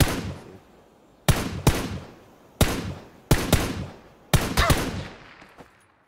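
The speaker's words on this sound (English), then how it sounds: "Someone just sniped the shit out of me." Sniper rifle gunfire in the video game PUBG: five sharp, loud shots spaced about a second apart, each cracking out and then trailing off in a long echoing tail, with the last shots coming in a quicker cluster.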